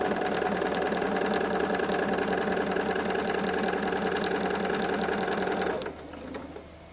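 A sewing machine stitches a quilt binding with a steady, fast mechanical whir and needle chatter for about six seconds, then slows and stops, leaving a low hum.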